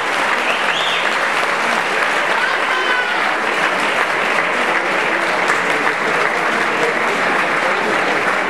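Sustained, dense applause from a school graduation audience honouring the students, loud and steady throughout with a continuous crowd wash and no pauses.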